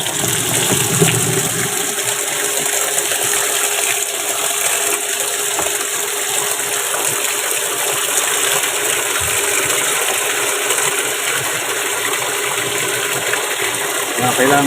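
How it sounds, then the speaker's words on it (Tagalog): Water gushes steadily into a washing machine tub under repair, a loud continuous rushing stream that runs unbroken throughout. "Salihan na ulit natin ng tubig."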